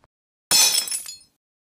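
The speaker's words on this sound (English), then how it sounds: "Maybe if I smash something, I can lure her in here." Glass shattering in the video game Piggy, a single sudden loud crash with tinkling shards that fade out within a second, alone with no voices.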